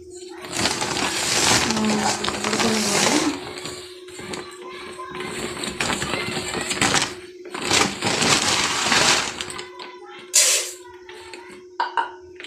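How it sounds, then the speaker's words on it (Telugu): Burelu, sweet stuffed dumplings for children, deep-frying in hot oil, with loud sizzling surges that rise and ebb over a steady background hum, heard close up. "ఇంక ఇప్పుడు బూరెలు అయితే వేసేసాను, చూడండి అసలు ఎలా పొంగుతాయో."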